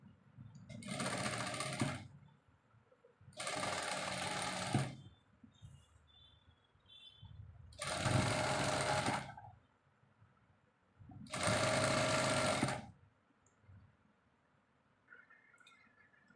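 A sewing machine stitches the folded armhole of a vest in four separate runs of steady, rapid whirring, each about two seconds long, with quiet pauses and small handling sounds between them.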